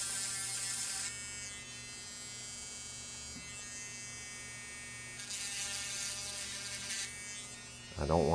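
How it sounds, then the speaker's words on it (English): A small rotary tool grinds at a corroded pin on a SNES cartridge connector (Kirby's Dream Land 3), giving a steady high whine in near bursts with brief pauses, alone. "I don't want to grind that pin away."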